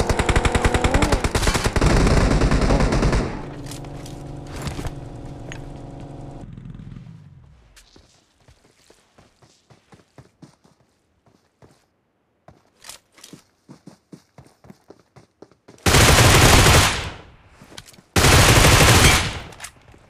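A Groza assault rifle in the mobile battle royale game BGMI, with loud sustained automatic bursts at the start, scattered quieter shots and footsteps in the middle, and two more heavy bursts near the end.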